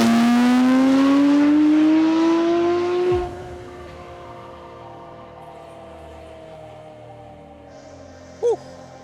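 A Porsche 997.2 GT3 revs hard and roars past on a street, its engine pitch rising loudly then dropping sharply as it passes and fades into the distance, leaving quiet background hum.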